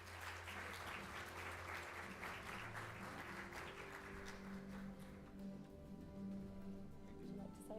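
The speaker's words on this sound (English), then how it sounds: "Let's give him a round of applause." Audience clapping at an education conference in Dubai, which thins out over a few seconds while a steady hum and faint tones stay underneath.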